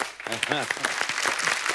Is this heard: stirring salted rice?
no